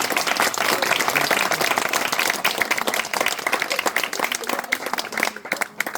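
A crowd applauding at a Saint Eloi festival in Boulbon, sustained dense clapping that continues steadily and thins slightly toward the end.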